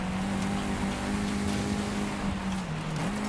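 A car drives past in the Forza Horizon 5 racing game, a steady engine drone with a shifting pitch that holds loud and continuous throughout, with no talk over it.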